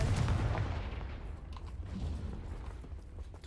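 The Confringo blasting spell explodes against rocks in the Hogwarts Legacy video game, a loud low blast that rolls and rumbles, then fades into crackling debris and background drone.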